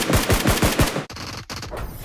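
Rapid automatic gunfire in the mobile shooter BGMI, about five quick loud shots in a steady rhythm followed by fainter trailing shots and echoes, with no talk over it.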